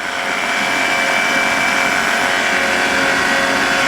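A flexwing microlight aircraft's engine runs at full RPM during the climb, a loud, steady, unbroken drone with a constant high whine throughout.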